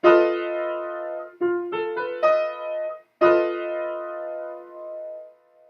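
A sustained keyboard chord, then quick individual notes, then the full French augmented sixth chord struck again and left to ring out and fade, somewhat dissonant.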